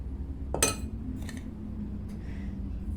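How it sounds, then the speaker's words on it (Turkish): Spoonfuls of baby biscuits are tipped into the bottoms of glasses for a strawberry milk dessert, giving a sharp clink near the start and a few softer taps and scrapes after it, close by and quiet, with no talking. "Bardaklarımızın en dibine bisküvilerimizi ilave ediyoruz."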